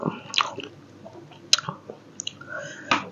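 Close, wet chewing and biting of wakame seaweed dipped in suki sauce, with soft squishy bites and a few sharper clicks spread across the moment, and faint talk in the background.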